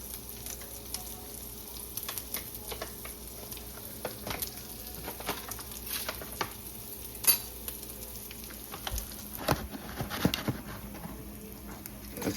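Flour is stirred into browned sausage in a pan over medium-low heat, a quiet, faint sizzle with soft scraping and scattered pops under no talk.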